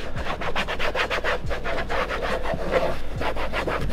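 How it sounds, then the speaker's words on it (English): A cloth is rubbed briskly back and forth over a sprayed board inside a camper, wiping off grime in rapid, regular scrubbing strokes, close and fairly loud. "we're just giving it another quick spray and wiping this off now"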